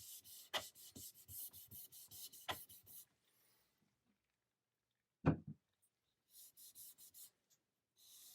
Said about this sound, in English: I'll just lightly sand that off and put the rosewood on